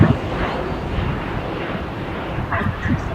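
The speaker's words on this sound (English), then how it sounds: "quite a rocket takeoff here for United" A United Express SkyWest Embraer E175 LR airliner taking off steeply from LAX, heard as a steady, broad jet engine roar that holds at a fairly loud, even level throughout, with faint voices underneath.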